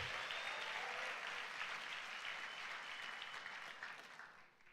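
Congregation at a Sunday church service applauding, steady sustained clapping that fades slightly at the end.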